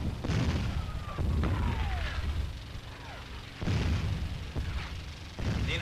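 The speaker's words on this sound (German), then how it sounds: "Die Wirkung der Artillerievorbereitung." Heavy artillery fire from a World War II-era German training film showing a preparatory barrage on a village, repeated deep booms and blasts layered over a constant rumbling, noisy battlefield din.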